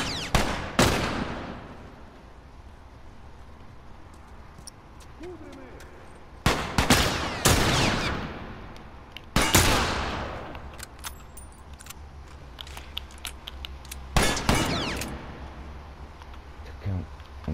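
Gunshots in The Last of Us gameplay, a handful of sharp, loud blasts spaced a few seconds apart, each with a short ringing tail, over quiet background ambience.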